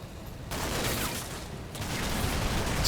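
A BTR's 14.5mm cannon fires in the Combat Mission: Cold War video game: dense, rolling bursts of heavy automatic fire that merge into a continuous rumble, fairly distant and steady for a few seconds.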